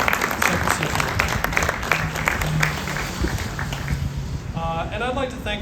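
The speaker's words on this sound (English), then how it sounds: "let's have a round of applause for Second Century" An outdoor crowd applauds at a groundbreaking ceremony for a complete street project, a dense, steady patter of many hands with voices mixed in, tapering off as someone starts speaking near the end.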